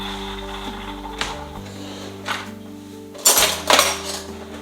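A long spoon stirs frothed milk and a coffee shot in a glass, giving a few clinks against the glass, with one louder burst of clinking near the end over a steady low machine hum.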